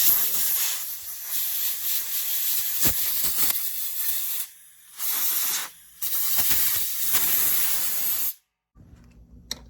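Loud, steady hiss of compressed air blasting out a drilled subframe seat thread hole, broken by two short pauses and then cut off near the end, leaving quiet background.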